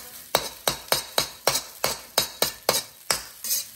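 An egg cooks in a pan for restaurant-style vegetable fried rice, with about eleven sharp, evenly spaced spatula strikes against the pan over a faint sizzle, close and without speech.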